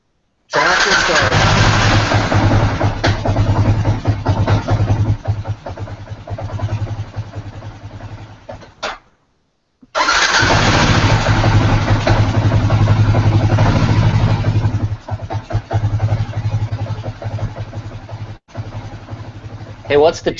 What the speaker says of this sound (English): So it does run.